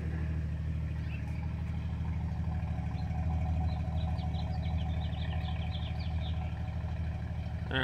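A 1974 Dodge Dart V8 with a carburetor idles steadily as it warms up on a cold 48-degree morning after sitting five years, a close, even rumble with faint birdsong in the background.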